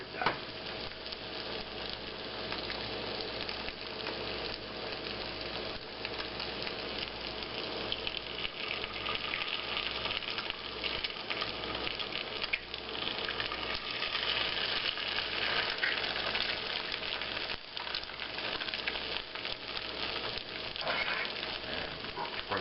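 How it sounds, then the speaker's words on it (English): An egg fries in a skillet over a hash-style hobo breakfast, giving a steady close sizzle that runs continuously at even loudness with faint clicks and stirring sounds underneath, no talking. "break an egg right in the middle of it"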